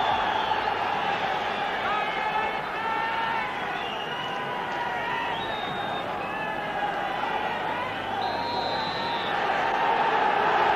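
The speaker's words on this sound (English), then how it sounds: "Huge crowd inside Tannadice as Rapid Vienna start the match" A huge crowd inside Tannadice stadium roars and murmurs steadily at a football match between Dundee United and Rapid Vienna, with whistles and calls rising above a dense, continuous wash of noise.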